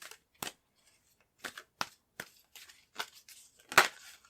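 Tarot cards handled and shuffled in short, separate bursts, about eight crisp close-up flicks and slaps spaced by quiet pauses, with the last one loudest.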